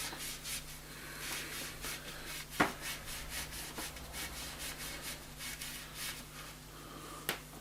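Ultra-fine 10,000 grit steel wool is rubbed along a snooker cue in a soft, steady, quiet scrubbing rhythm, with a couple of sharp faint clicks and a low background hum.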